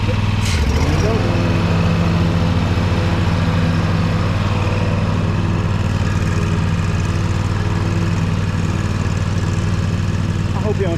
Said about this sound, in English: I hope you don't tear up my lawnmower